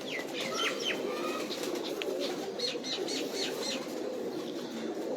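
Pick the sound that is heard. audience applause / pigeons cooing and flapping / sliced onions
pigeons cooing and flapping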